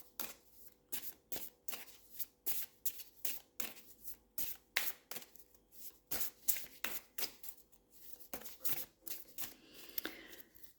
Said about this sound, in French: Alors, on va tirer des cartes.